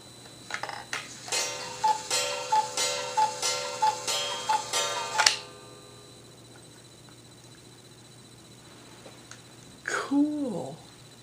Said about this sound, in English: I also got a cuckoo clock.